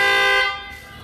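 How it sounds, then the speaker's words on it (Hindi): A loud aftermarket Audi-style horn fitted to a Toyota Fortuner gives a single short, bright, blaring honk at close range, held for about half a second and then cut off. "इन्होंने रेड लाइन का 7th generation ऑडी हॉर्न अपनी गाड़ी के अंदर इंस्टॉल करवाया है, जो कि काफ़ी लाउड होता है"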